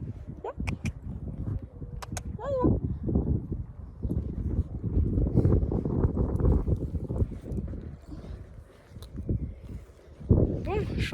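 Steady wind rumble and buffeting in an outdoor horse riding arena, with hoofbeats clip-clopping and a voice talking over it.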